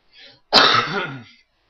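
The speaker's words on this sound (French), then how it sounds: "j'ai une petite toux" One loud, harsh cough sounds close up, preceded by a faint breath and fading out quickly into silence.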